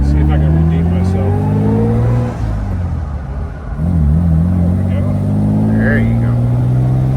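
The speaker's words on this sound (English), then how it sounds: "Single carburetor V6 is pretty peppy." A 1957 Lancia Aurelia B24S Cabriolet's single-carburetor V6 engine revs loudly and close, its steady tone rising and dipping with throttle, while someone speaks briefly over it.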